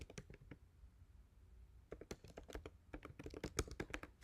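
Keys on a computer keyboard clatter in an irregular burst of close, crisp clicks while Python code is typed, starting sparse and speeding into a dense run with no voices.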